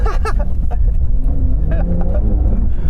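A Porsche 911 Dakar drives off-road, its engine a steady close rumble with rising revs, while a voice giggles and exclaims in bursts over the top.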